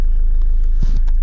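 A Mahindra Scorpio engine idles in first gear, a steady low rumble heard close up that continues alone throughout, with a brief louder bump of engine sound near the end.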